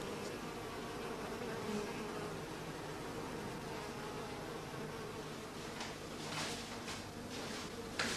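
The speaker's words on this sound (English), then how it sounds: "the bees have fused into a small colony, and their contented, quiet clustering shows this clearly" Honeybees clustering quietly inside a hive after a period of confinement, giving a steady, low, continuous hum with no breaks and no talk.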